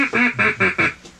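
A hunter's duck call blows a run of four loud, evenly spaced mallard-style quacks followed by a softer fifth, close up and with no talking, aimed at a passing group of ducks.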